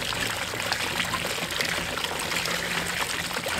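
Water pours steadily through a game bird washer as chicken eggs are cleaned, a continuous close trickling and splashing at moderate volume with no voices.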